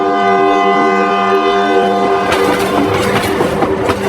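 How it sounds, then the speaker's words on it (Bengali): A train rolls into a station platform at night, its long steady horn tones ringing loud before the wheels and carriages take over with rumbling clatter and clicking as it draws in. "বড় একটা হর্ন দিয়ে ট্রেনটা স্টেশনে এসে থামলো।"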